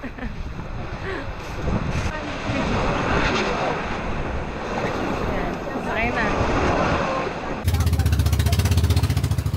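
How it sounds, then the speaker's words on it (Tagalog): Strong sea waves and gusty wind buffet a boat leaving Fortune Island, Nasugbu, Batangas, ahead of incoming rain, with loud continuous roaring wind noise on the microphone and a droning engine toward the end; a voice speaks briefly. "medyo malakas pala ang alon kasi may paparating na ulan at malakas ang hangin"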